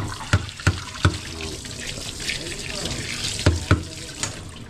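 Pressurised water flows through a household pipe or faucet to flush out dirt, a continuous splashing rush with several sharp knocks and clatters, while a voice is heard faintly underneath.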